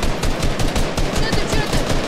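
Rapid automatic gunfire crackles through a video game arena match, dense bursts repeating almost without pause, loud and close, with players' voices shouting underneath.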